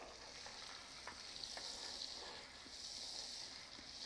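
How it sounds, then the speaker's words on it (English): Veal rolls dusted in flour sear in butter and oil in a pan, giving a steady, even sizzle throughout with faint scattered pops and scrapes, no voices. "I'm actually going to seal the veal, right, either side, so I can create nice crispy flavour with the flour"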